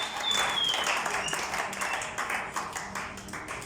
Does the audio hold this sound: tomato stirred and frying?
no